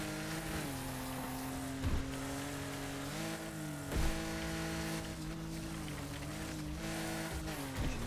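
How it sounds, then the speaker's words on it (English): Race cars in the Wreckfest demolition-derby racing game drone with steady, loud engine tones that rise and dip as gears shift, with brief bursts of tire squeal and impacts cutting through the continuous roar. "Your car, it makes a noise very, very far."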